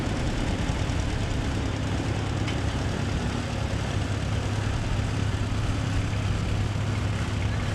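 An antique orange Allis-Chalmers tractor on steel wheels rolls past at a fair, a steady low engine drone with a strong bass hum that stays constant and fairly close for the whole stretch, with no voices.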